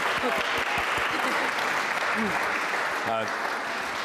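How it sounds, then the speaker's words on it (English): Applause from the audience at a Safe Streets community policing meeting, a steady wash of clapping with a few faint voices mixed in, fairly soft and distant throughout. "Let's give him a round of applause."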